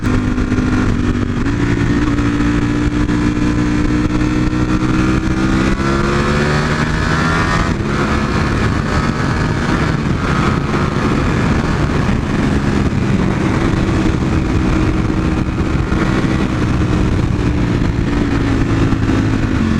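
A motorcycle engine revs loudly and continuously, its pitch climbing and dropping as it shifts through gears, close by with no talking.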